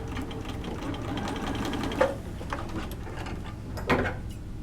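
A sewing machine back-stitches a French seam with a steady mechanical whir and rapid needle ticking, broken by two brief clunks as the stitch reverses.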